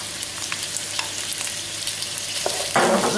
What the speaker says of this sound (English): Now we're going to fry these gently for about 5 minutes.